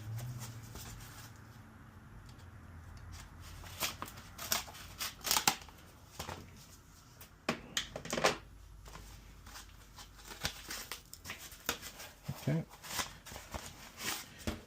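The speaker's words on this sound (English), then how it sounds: "I have some scissors, guess I can use the scissors." Crisp snipping and rustling of scissors, likely cutting a gasket, a series of short sharp cuts at close range with irregular pauses between them, no voices.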